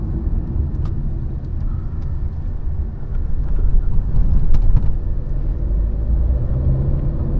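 Tata Nexon 1.5L, 113 bhp, driven in sport mode from inside the cabin: a steady low engine and road rumble that swells slightly midway, with no talking.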